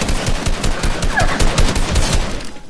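Rapid bursts of video game gunfire from a pistol, dense and loud, with repeated sharp reports filling the whole stretch before cutting off at the end.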